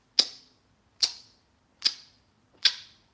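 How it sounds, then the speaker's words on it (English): Four crisp, evenly spaced mouth clicks, sharp and close, each a short dry snap in near silence, with no speech. "They make this clicking sound before they say the first word."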